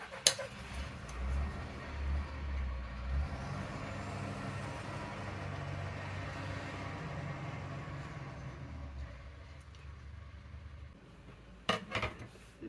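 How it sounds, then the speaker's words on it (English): Heavy lorries pass outside a quiet crafting room, giving a faint, low rumble that swells and then fades, with a few light clatters near the end. "very noisy lorries going past today."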